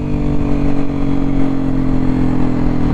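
Honda XRE 300 (299cc) motorcycle engine held at full throttle, running lean at high revs, a steady loud continuous drone with no pauses.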